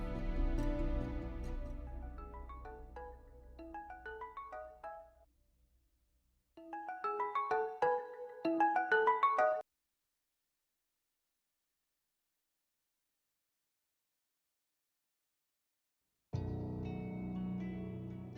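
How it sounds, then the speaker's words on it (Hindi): A melodic phone ringtone plays in repeated phrases, separated by pauses and a long silence, before the tune starts again. "फोन क्यों नहीं उठा रहे?"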